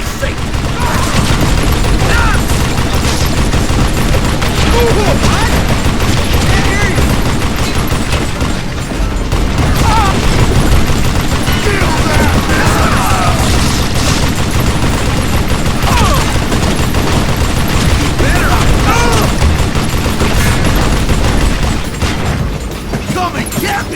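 Dense, continuous gunfire from a shootout in the Western video game Call of Juarez: Gunslinger, with rapid overlapping shots and booms sustained loudly throughout and shouted voices mixed into the din.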